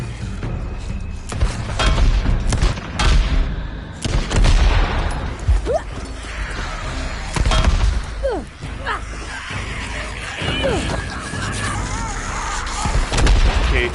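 Barrels exploding in the Days Gone Remastered video game: a series of loud booms and crashing bursts at irregular intervals over continuous rumbling gameplay noise.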